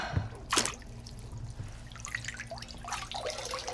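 Water drips and trickles out of a cold plunge tub's water filter unit, irregular splashes and dribbles up close over a low hum, with no talking.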